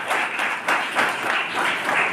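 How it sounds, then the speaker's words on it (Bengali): A crowd applauds the winners of a competition organised by a blind association in Tripura, a dense burst of clapping held at an even level for a couple of seconds with no speech. "সবাইকে বলবো একবার জোরে করতালি বাজিয়ে তাদের জন্য"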